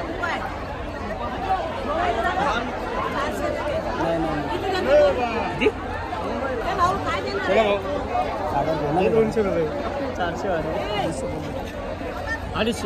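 Dense crowd chatter at Bhaucha Dhakka, the wholesale fish market in Mumbai, a steady packed hubbub of many overlapping voices close by with occasional shouts rising above it.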